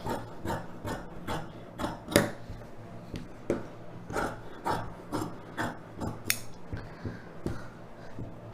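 Scissors cutting fabric for a chudidhar collar lining: a steady series of about fifteen crisp snips in an uneven rhythm, close and moderately loud, with light rubbing of cloth between cuts and no talking.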